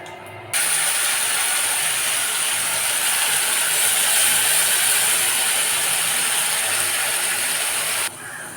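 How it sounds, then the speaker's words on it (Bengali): Onion and chilli paste hits hot oil in a pan with a bay leaf and gives a loud, steady frying hiss. It starts abruptly, holds evenly for about seven and a half seconds, then drops away. "তারপর দিয়ে দেবো পেঁয়াজ আর লঙ্কা বাটা।"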